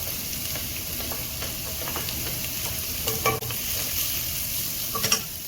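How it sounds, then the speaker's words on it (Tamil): Spring onion whites and vegetables sauté in a pan for restaurant-style mixed fried rice: a continuous close sizzle under rhythmic stirring scrapes, with a few brighter clinks near the end and no voices. "அந்த ஸ்ப்ரிங் ஆனியன் அந்த ஒயிட் பார்ட் கட் பண்ணி வச்சுருக்கோம்ல அதையும் சேர்த்து நல்லா வதக்குங்க"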